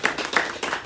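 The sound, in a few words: people clapping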